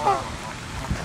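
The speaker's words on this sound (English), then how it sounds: "There's a ton of geese here today." Canada geese honk briefly over faint background voices, a couple of nasal calls at the start and end of the moment.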